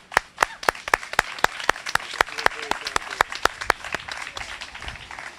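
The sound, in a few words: round of applause for graduates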